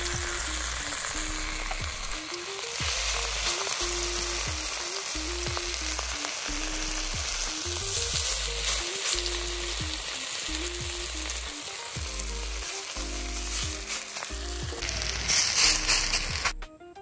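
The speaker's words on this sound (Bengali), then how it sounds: "অল্প অল্প করে গোল গোল করে কড়াইয়ের মধ্যে দিয়ে বড়া ভেজে নেব।" Flower-leaf fritters fry in hot oil in a wok, a steady, close sizzle with rhythmic scraping and stirring knocks repeating throughout, growing a bit louder near the end, with no talking.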